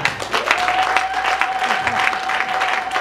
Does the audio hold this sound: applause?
yes